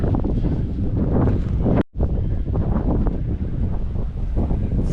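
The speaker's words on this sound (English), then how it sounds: "it's getting quite windy up here now" Strong wind buffets the microphone on an exposed mountain road climbing toward Coronet Peak, a loud continuous roar of gusts with one brief drop near the start, no voices.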